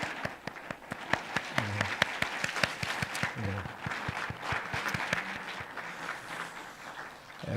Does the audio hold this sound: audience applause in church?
yes